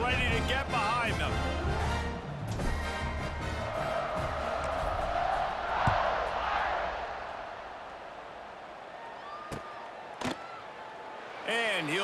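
Stadium crowd at a college football game in EA Sports College Football 26, a steady broad roar with swells after a kickoff, playing continuously under a commentator's voice.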